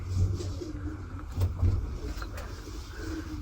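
A domestic pigeon gives low, throaty coos while being handled near its nest with two eggs, a few soft murmuring pulses close by over a steady background hum.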